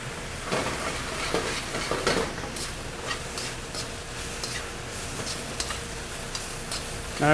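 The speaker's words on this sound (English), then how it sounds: "Now I want to saute our mushrooms so we keep them nice and white and fresh" Shiitake and enoki mushrooms with green onions sauté in a hot pan, giving a steady close sizzle broken by light stirring clicks and scrapes, with no voices.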